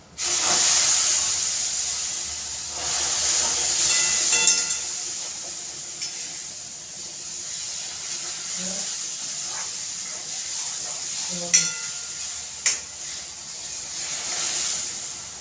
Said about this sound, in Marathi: आता उकळतं दूध चांगलं त्याच्यामध्ये असं ओतायचं